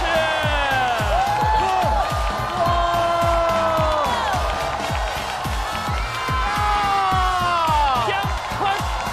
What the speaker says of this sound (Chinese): 掌声欢迎姜昆老师。